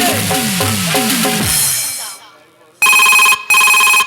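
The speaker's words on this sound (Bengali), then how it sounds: "এই দেখো, তোর ফোন এসেছে" A mobile phone ringtone cuts in loud and close as two bright electronic bursts with a short gap between them, right after a stretch of music fades to near silence.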